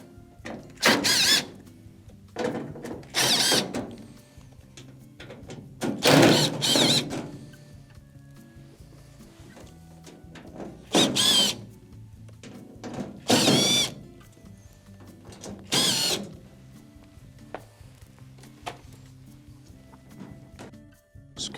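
Phillips screws being backed out of the rear panel of a Frigidaire washer with a power driver, repeated short whirring bursts separated by quiet gaps and small metallic clicks.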